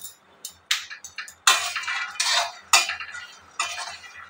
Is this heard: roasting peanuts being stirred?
yes